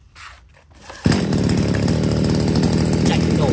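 A used Japanese chainsaw engine starts up and settles into a loud, steady running drone with a fine buzzing rattle, after a brief quieter stretch of handling noise at the beginning.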